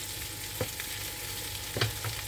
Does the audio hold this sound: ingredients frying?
yes